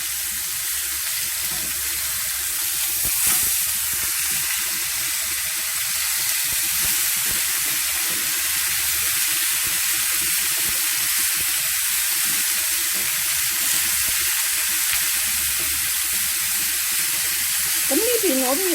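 Beef short ribs sizzle in a covered frying pan, a loud, continuous hissing crackle of fat and steam that holds steady throughout, with a faint clink near the end.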